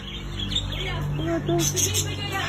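Pet bird giving a few short chirps and tweets at moderate distance, scattered over a low background hum, with a person speaking briefly among the calls.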